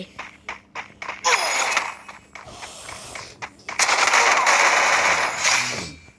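Gunfire in the mobile shooter game Free Fire comes in bursts: several short single shots, then two long loud automatic volleys, up close and without talk.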